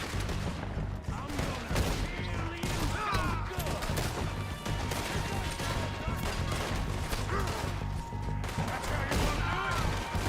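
Dense, constant gunfire and clattering action in Red Dead Redemption 2, with rapid overlapping shots throughout and a voice talking over the din.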